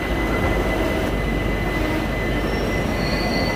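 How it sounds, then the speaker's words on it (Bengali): Steady, loud rolling rumble of a passenger train on the Santragachi–Digha route pulling into platform 2 at Uluberia station, with thin high wheel squeal rising near the end and no voices. "2 নম্বর প্ল্যাটফর্মে ঢুকলো উলুবেড়িয়াতে"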